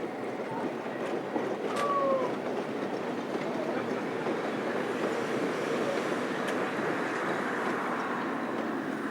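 A steam train rolls through snowy Austrian vineyards on the line toward Birkfeld, a steady loud rumble of wheels and carriages with a short squealing whine early on and faint clanks over the continuous roar.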